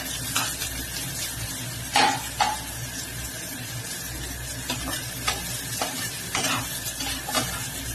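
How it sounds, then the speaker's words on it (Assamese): Onions and two green chillies frying in a pan while being stirred, a steady sizzle broken by sharp scrapes and clatters of the spoon at irregular intervals, close and without speech. "এয়া পিঁয়াজখিনি অকণমান ভাজি লৈছোঁ"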